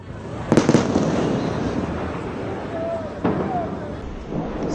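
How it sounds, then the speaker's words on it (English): Explosions from Israeli strikes in Tehran at around 3:30 a.m., heard as two separate booming bursts, the first louder, rising over a constant roar of city background noise. "Around 3:30 a.m. local time, explosions were heard in Tehran."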